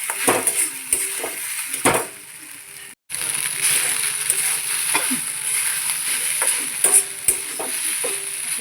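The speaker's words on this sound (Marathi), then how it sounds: "खिचडी परत झाले की ह्या मिरच्या तळायच्या" Green chilies frying in a pan, heard close up as a steady bright sizzle with frequent metallic clinks and scrapes of a utensil against the pan, a brief gap near the middle, no talking.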